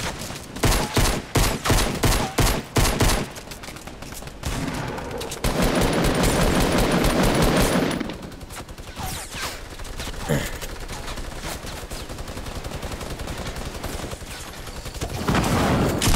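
Rapid bursts of gunfire ring out in a Fortnite battle royale match, a quick string of shots at first, then scattered fire and sustained volleys.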